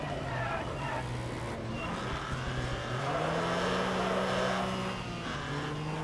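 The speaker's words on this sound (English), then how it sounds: "That little European car back here. Yeah. It's got a good sound to it." Small European car engine revving hard while racing in the video game Wreckfest, a steady buzzing drone with rising and falling pitch sweeps, loud and continuous, with men chatting over it.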